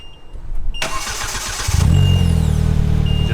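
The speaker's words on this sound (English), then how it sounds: "You just push the brake in, and then you start the engine." A Polaris Slingshot engine is started by key fob with the brake pressed: a brief whir of the starter, then the engine catches with a loud burst and settles into a steady, close, rumbling idle.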